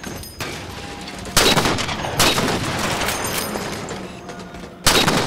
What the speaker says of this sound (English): Oh, he's shooting me! Oh, stop shooting!